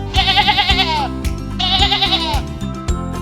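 Two loud, close sheep bleats, each a wavering, quavering call about a second long, separated by a brief pause with steady background music underneath.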